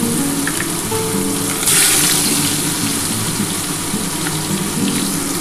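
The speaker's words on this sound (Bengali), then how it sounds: "এবার কিন্তু ওই কড়ার মধ্যে আমি প্রথমে পেঁয়াজ দিয়ে দিচ্ছি।" Onions sizzling in hot oil in a wok-style kadai for a spicy snakehead fish curry: a steady, close frying hiss with one brief louder surge as the onions drop in, and no talking.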